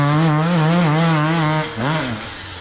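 Hard enduro dirt bike engine revving loudly up close, a wavering sustained throttle hold that drops briefly near the end then climbs again, no voices.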